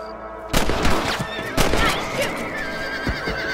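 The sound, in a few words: horse whinnying and hooves, from a video game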